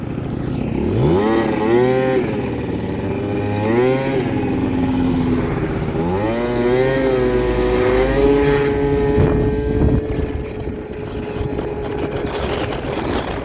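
A small Yamaha Aerox scooter engine revs up and down in repeated rising whines, loud and close, then settles into a steady high drone.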